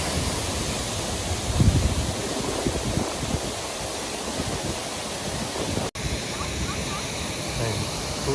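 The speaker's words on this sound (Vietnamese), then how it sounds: "cuối cùng mình đã đến được cái ngọn thác siêu đẹp này rồi" Pa Sy waterfall at Mang Den, Kon Tum, a steady broadband roar of rushing water filling the whole scene at a constant loud level, with a brief low thump partway through.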